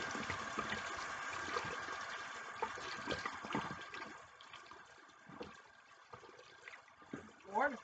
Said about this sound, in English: I'm about to wash my face.